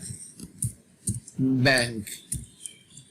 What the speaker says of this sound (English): I'll type ClickBank.